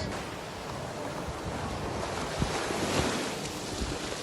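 Ocean waves off the Miami coast, heard from a moving boat, form a loud, steady wash of water and wind rush, with hull slaps and occasional thumps breaking through.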